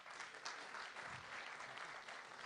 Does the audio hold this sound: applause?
yes